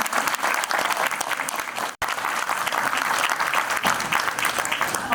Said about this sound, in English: please give a round of applause again for